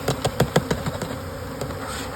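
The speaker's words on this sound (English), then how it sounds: "Most of the bees fly out." Bees buzz steadily close by, with a series of sharp knocks and taps at the start as a hive is handled.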